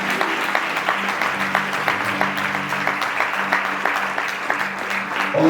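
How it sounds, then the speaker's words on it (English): A wedding congregation clapping together, dense sustained applause with a steady rhythmic beat, loud and near, continuing evenly throughout without talk. "Let's clap our hands."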